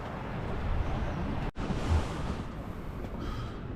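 Strong wind roars at an unmanned lighthouse on a coastal island in cold spring weather, a loud, steady buffeting rush battering the microphone throughout, with one brief dropout midway.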